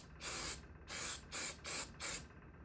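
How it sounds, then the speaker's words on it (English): Antique parchment spray paint hisses from an aerosol can in five short, even bursts with brief pauses between them, close and clear with no other sound. "I have some antique parchment spray"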